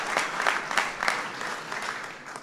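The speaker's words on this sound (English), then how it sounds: "How about we all give President Trump an amazing round of applause for being here tonight." A crowd at a White House event for the Clemson Tigers applauds President Trump. The clapping swells in brisk bursts, then settles into a steady, slightly fading patter of many hands.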